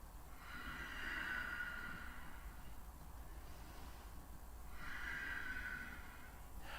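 Slow, steady breathing during a yoga pose in a power vinyasa class, two long airy breaths swelling and fading over a low steady background hum, with no talking.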